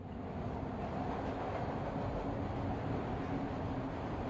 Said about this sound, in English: Oh, we've got a train coming again.